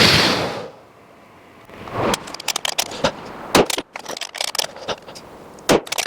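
A 7.62mm Lee-Enfield No.4 rifle (L8 Sterling conversion) fired on an outdoor range: one booming shot that fades, then a run of sharp clicks and clacks from the bolt and loading handling.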